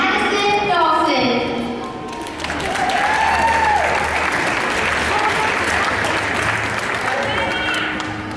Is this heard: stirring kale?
no